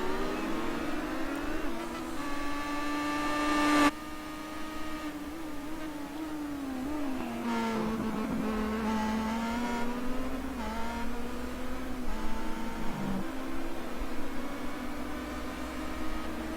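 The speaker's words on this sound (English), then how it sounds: "I think we need to turn them engine sounds up a little more." Star Mazda class race car engines on track make a continuous, moderately loud droning whine whose pitch rises and falls as the cars accelerate and lift, with a brief louder surge early on.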